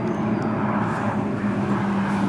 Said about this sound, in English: So I was just seeing what sort of plane that was.